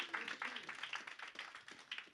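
An audience at a stand-up comedy show claps in scattered, uneven bursts for Coach T. The applause is faint and sounds somewhat distant.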